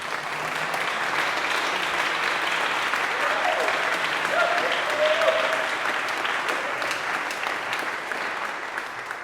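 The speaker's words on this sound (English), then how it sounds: "Let's have another round of applause." Steady, dense applause from a concert audience in a church music society's spring concert fills the space evenly and continuously, with faint voices briefly audible beneath it.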